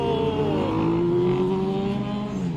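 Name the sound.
superbikes riding past on the road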